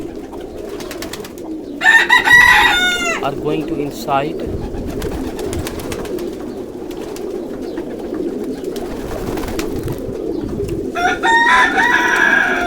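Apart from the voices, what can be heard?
pigeons cooing in a pigeon loft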